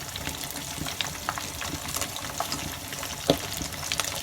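Fish pieces frying in hot oil for a green masala fish curry: a continuous crackling sizzle with scattered pops and small bursts, fairly close and steady, with no voices.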